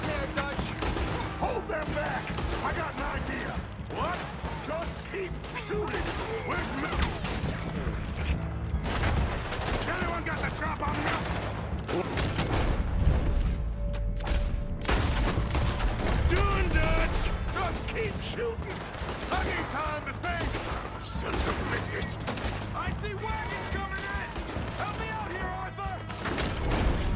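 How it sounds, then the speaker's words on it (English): A Red Dead Redemption 2 robbery shootout rages with dense, continuous gunfire, rifle and pistol shots overlapping in loud volleys while people shout over the battle throughout. "Just keep shooting."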